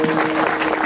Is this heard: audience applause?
yes